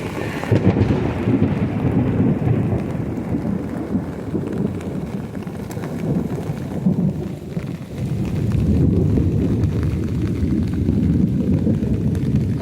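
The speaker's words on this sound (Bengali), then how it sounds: "দেখো কি বিদ্যুৎ চমকাচ্ছে" Steady, loud rain with deep rolling thunder rumbling through, a continuous stormy roar with a brief dip midway.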